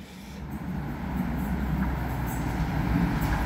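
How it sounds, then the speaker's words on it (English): An EMR Intercity train passes through Dore and Totley station with a low rolling rumble that builds gradually, heard from the platform at moderate distance. "1337 EMR Intercity Service from Sheffield to London Pancras International"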